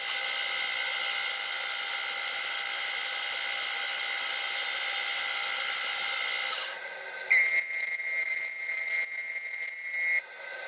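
High-speed steel drill bit boring through a workpiece: a steady, close high-pitched whine holds for several seconds, then gives way to a rougher, uneven grinding with intermittent bursts.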